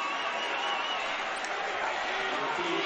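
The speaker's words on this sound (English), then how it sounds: "All right, that got the crowd off their seats. The East Side crowd." Spectators at a Madison East versus Madison Memorial high school boys basketball game roar steadily in a gym after a scoring run, a sustained, dense crowd noise with applause mixed in and no pause.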